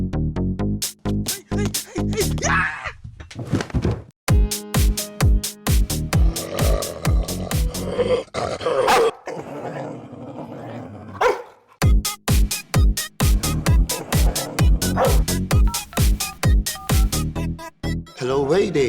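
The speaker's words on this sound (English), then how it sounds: "Oh, those small puppies." Small puppies bark and yip in rapid, loud bursts, with brief pauses and a stretch of whimpering in between, the barking close and dominant throughout.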